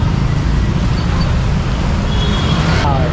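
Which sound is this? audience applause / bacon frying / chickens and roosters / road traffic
road traffic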